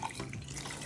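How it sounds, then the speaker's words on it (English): A little water poured into a cooking pot of waakye with leaves, a brief steady splashing trickle up close. "I'm going to add a little bit water"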